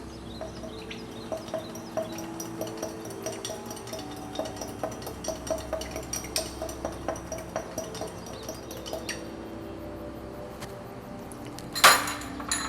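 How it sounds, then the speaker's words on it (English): A spoon stirs sugar powder into an orange and lime mocktail, ticking against the glass in a quick, regular clinking rhythm, close and clear, ending with one brighter knock. "and 1 spoon sugar powder and stir it"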